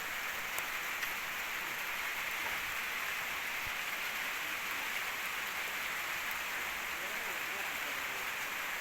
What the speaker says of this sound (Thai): ฝนก็ตกลินมานี่